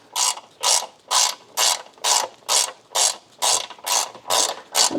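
A ratcheting spanner works a bolt loose on a Fiat Panda 100HP engine during engine removal, giving about ten evenly spaced bursts of close, crisp clicking with short pauses between strokes.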